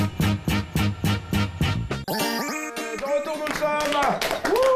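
Studio audience on the evening TV show Madame Monsieur Bonsoir claps in a loud, evenly spaced beat for about two seconds before bright music takes over.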